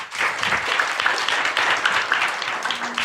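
Church congregation clapping together during a Sunday Mandarin-language service to welcome a pastor to the pulpit, a steady moderate wash of many hands lasting a few seconds without speech.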